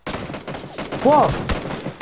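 Gunfire from a SCAR-L rifle in the battle-royale video game PUBG: a few sharp reports over a busy game soundscape, close and fairly loud.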